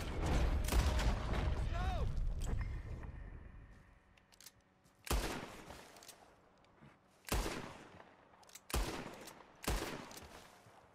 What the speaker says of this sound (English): Damn, I really can't shoot straight.